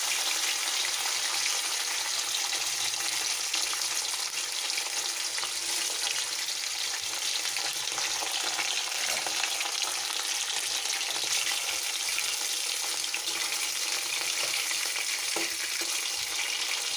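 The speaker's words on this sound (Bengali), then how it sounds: "এবার আমি তেলটার মধ্যে একে একে মাছগুলো দিয়ে দেব।" Fish pieces fry in a pan of hot oil, giving a steady, close, even sizzle that continues without pause.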